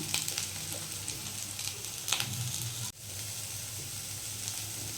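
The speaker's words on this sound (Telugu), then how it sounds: "ఇప్పుడు కొంచెం ఫ్రై అయ్యాయి కదా ఆనియన్స్, కొంచెం ఫ్రై అయితే చాలు, ఎక్కువ ఫ్రై చేయొద్దు." Chopped onions and beans fry in a hot pan for a vegetable bread sandwich filling, giving a steady, close sizzle with a brief stirring scrape partway through.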